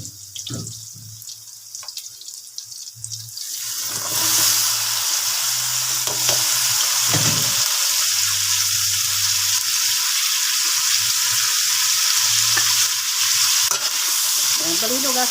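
String beans (sitaw) sizzle and crackle in a hot pan while being stir-fried, a loud, steady frying hiss that jumps up after a quieter start and holds to the end, with no talking.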